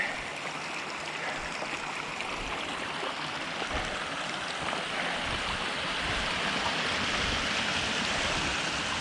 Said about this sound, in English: All the bedrock making for pools and little waterfalls and stuff.